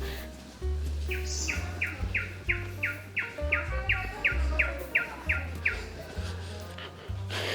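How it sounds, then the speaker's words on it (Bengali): A bird in the Sundarbans forest repeats a quick run of sharp, evenly spaced chirping notes at moderate distance, over a low rumbling hum. "পুরো সুন্দরবনে শুধুমাত্র এই একটা পাখির ডাক আমি শুনতে পেলাম"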